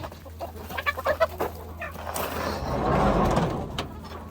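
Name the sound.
rooster crowing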